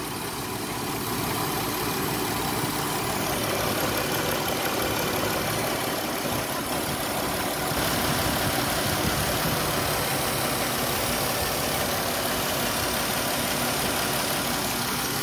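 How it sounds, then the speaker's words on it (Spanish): A car engine with a fuel pump bypass fault runs at a steady idle, a loud continuous rumbling drone close up with little change throughout, no voices over it. "Escuchen el motor, no prendía y prende."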